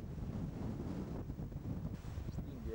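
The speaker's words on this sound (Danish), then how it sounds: "Det blæser temmelig kraftigt her" Strong wind buffets the microphone on the narrow cliffside walkway of El Caminito del Rey near El Chorro, a steady loud low roar with gusts throughout.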